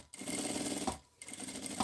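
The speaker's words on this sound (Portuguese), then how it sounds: "Vou passar uma costurinha aqui em volta pra segurar a tela." A sewing machine runs steadily, stitching a mesh pocket onto fabric for a wallet, then stops briefly and starts again. The motor hum is close and even, with no talking over it.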